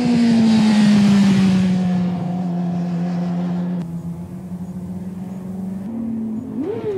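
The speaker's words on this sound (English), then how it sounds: "He's revving it, but too high and still on and off the brake lever, pogoing the bike." A motorcycle engine revs steadily and loudly close by, its pitch sliding down and holding through downshifts, then dropping to a lower drone and finishing with a short rising blip.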